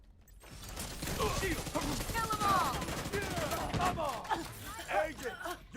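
Gunfire in the video game The Division, a busy run of rapid automatic shots and mechanical rattles under ongoing game sound at moderate level.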